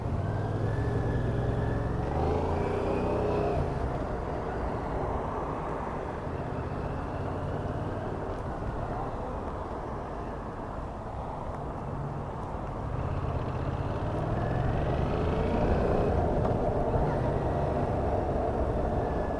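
Engine of a 2020 Yamaha MT-07 motorcycle with its regular exhaust, a steady, moderately loud rumble held at an even level throughout, with no voices.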